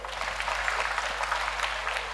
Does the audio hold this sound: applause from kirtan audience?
yes